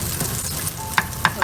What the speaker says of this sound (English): That's just the color of the kidney beans after frying it, like a shallow frying it